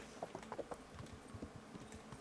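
Horse hooves clip-clop in the medieval game Kingdom Come: Deliverance. A quick run of close, hollow hoofbeats starts off clustered, then trails into softer, irregular steps.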